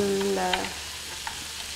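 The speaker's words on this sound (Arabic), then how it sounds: "حنزل باقي الخضار كلهم سوا" Liver and vegetables frying together in a pan for Saudi liver tacos, a steady broadband sizzle with a few stirring clinks, close and moderately loud, no talking.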